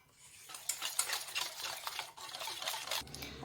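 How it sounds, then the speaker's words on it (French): A whisk beats a batter mixture in a bowl, a quiet rapid scraping and tapping that starts after a short pause and runs on busily, with no voices. "Je mélange le tout à l'aide d'un fouet"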